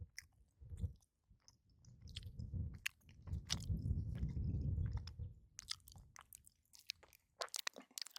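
Close, wet chewing and crunching of food while eating, soft bites and squishy mouth sounds in an irregular rhythm with no talking.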